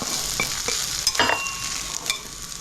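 Onions sizzle in a hot pan while a utensil stirs them, bright frying hiss continuous with a few quick scraping strokes close by.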